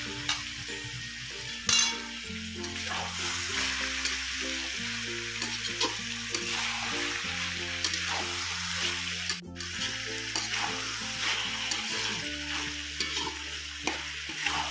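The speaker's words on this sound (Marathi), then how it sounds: "सगळं कापून स्वच्छ करून ठेवलेलं आहे। परतून घेऊया।" Chopped vegetables, including spring onion, stir-fried in a pan for veg fried rice, giving a continuous sizzle with repeated scraping and tossing strokes under steady background music.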